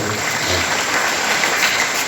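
Applause from a crowd of families at a silver-jubilee religious gathering in a Karnataka village, a steady dense clapping wash that holds evenly for its whole length.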